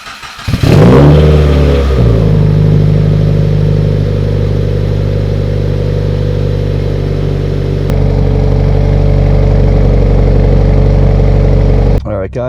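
A modified Subaru WRX revs hard from inside the cabin, a sharp rising rev near the start settling into a loud, steady exhaust and induction drone that holds, with a brief shift in tone partway and another near the end.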